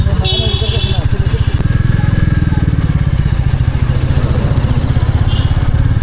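A Royal Enfield motorcycle engine runs steadily nearby with a loud, rapid chugging pulse and occasional metallic clatter, while people talk over it.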